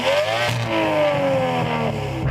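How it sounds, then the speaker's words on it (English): An Aston Martin car with a turbo engine revs at a drag race, a loud, continuous rising and falling engine roar with strong harmonics, close by and heard alone without talk. "How are they making a turbo sound like this? Sounds lovely, doesn't it?"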